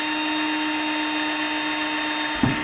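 A power drill whines steadily while boring a mounting hole for window blinds in a home, a continuous loud motor drone that cuts off near the end.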